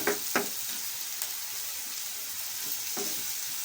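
Sliced onions with a pinch of salt fry in a pan toward golden brown for Godavari-style fish curry, giving a steady soft sizzle with a few brief clinks and scrapes, close and alone.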